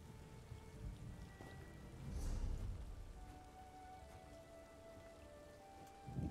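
Steady rain from a storm in the video game The Elder Scrolls Online, a continuous wash of falling drops with a faint low rumble swelling midway, no voices present.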